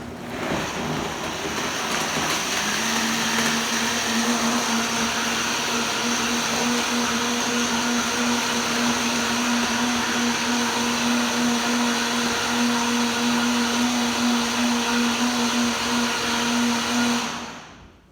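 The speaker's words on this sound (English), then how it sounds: "And we just fire this baby up. Vitamix, by the way, only way to go." A Vitamix blender runs a morning shake, its motor roaring loud and steady close by for about fifteen seconds with a strong whining drone, then it cuts off abruptly at the end.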